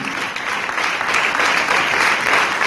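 Loud, steady applause from an audience at a religious talk, sustained clapping filling the whole stretch without speech over it.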